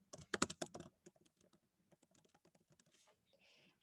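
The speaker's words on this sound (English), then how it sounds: "So I will type my response here." Someone types on a computer keyboard: a dense, fast burst of keystrokes at first, then lighter, scattered taps continuing alone with no talk.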